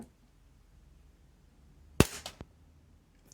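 A Tokyo Marui Glock airsoft pistol running a CO2 magazine fires a single sharp crack, followed moments later by a quieter second snap of the slide, all in a quiet room.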